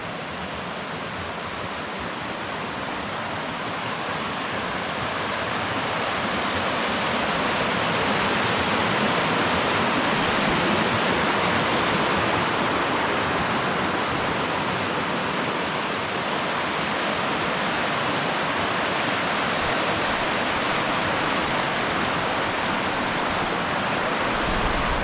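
A swollen river rushing across a washed-out hill path in the Cairngorms after a thunderstorm, a steady, loud, close hiss of churning water that holds for the whole stretch with no voices.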